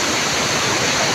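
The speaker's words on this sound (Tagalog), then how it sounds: "Ayan, guys, yung agos ng tubig." Strong rushing water at Wawa Dam in Montalban, Rodriguez, Rizal, a steady, loud, close roar of the current with no voices over it.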